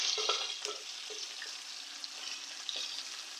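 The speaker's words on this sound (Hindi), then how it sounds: "इसको 3 से 4 मिनट चिकन और जिंजर की अच्छे से भुनाई कर लेंगे।" Chicken and ginger paste being browned in a pan for chicken shorba make a soft, faint sizzle, with light scraping from stirring rising now and then.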